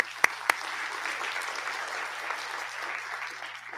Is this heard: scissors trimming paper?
no